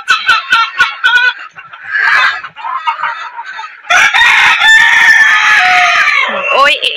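Chickens cluck loudly and close by in quick, choppy bursts, then a rooster crows in a long, strained call that carries over the continuing clucks of the flock.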